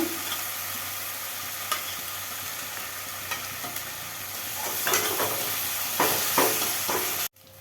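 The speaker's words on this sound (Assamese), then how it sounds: "জলকীয়া আৰু আদা নহৰু দিয়াৰ পিছত আকৌ এবাৰ ভালদৰে লৰাব লাগিব" Chili powder and ginger-garlic paste stirred in a hot pan, giving a continuous sizzle with scattered spatula scrapes that grow busier toward the end before cutting off abruptly.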